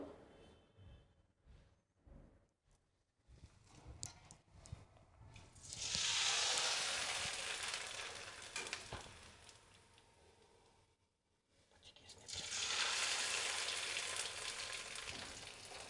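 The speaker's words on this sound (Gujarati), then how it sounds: "સેવની જાળીમાં તૈયાર કરેલી મમરી પણ તળી લેશું" Crisp frying sizzles as rice puffs in a sev sieve basket fry in hot oil in two strong bursts, separated by a quieter stretch with light clinks and stirring.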